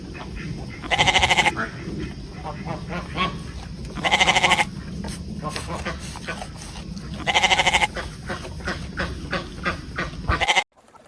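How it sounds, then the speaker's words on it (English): A goat bleats loudly three times, each cry harsh and quavering, spaced a few seconds apart over a busy farmyard background of rustling and shuffling. "Goat."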